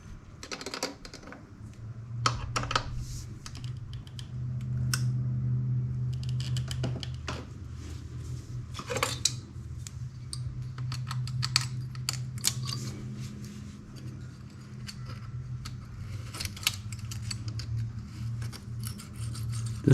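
Small valve cover bolts on a Honda SRX being hand-tightened with a ratchet, giving sparse light metallic clicks and taps over a steady low hum, with no talking.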